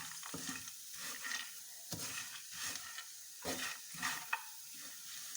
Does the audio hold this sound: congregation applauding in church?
no